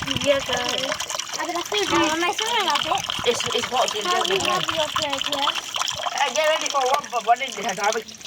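Water gushes and splashes while balloons are filled for an indoor water balloon fight. The running water is steady throughout, and children chatter and shout over it.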